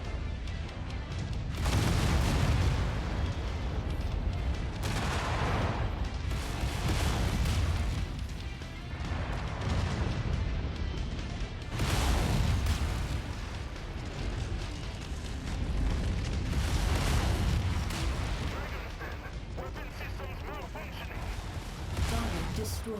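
Heavy explosions and rumbling blasts from battling mechs, including an exploding mech, in the game MechWarrior 5 recur in loud waves over a constant roar of combat, with voices occasionally heard among the booms.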